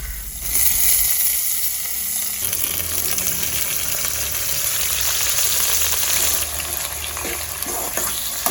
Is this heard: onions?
yes